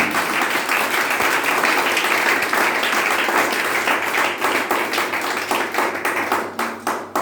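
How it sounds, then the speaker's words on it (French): A church congregation claps and applauds loudly and steadily in praise of the Holy Spirit, a dense wash of hand claps that thins out near the end. "Acclame le Saint-Esprit."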